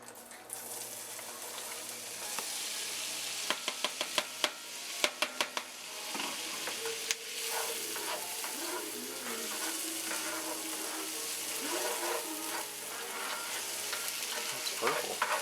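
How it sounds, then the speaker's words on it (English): Red and white onions sauteing in a pan give a steady, bright sizzle throughout, with a run of sharp clicks and taps from a utensil near the middle and occasional faint voices underneath. "So at this point, we're just sauteing our onions,"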